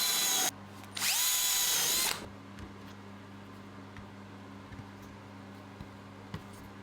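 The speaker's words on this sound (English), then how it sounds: "I'm going to use a countersinking bit to pre-drill some holes." A power drill with a countersinking bit revs loudly in two close bursts pre-drilling holes in pallet wood, the second winding down, followed by a quiet hum and a few faint clicks.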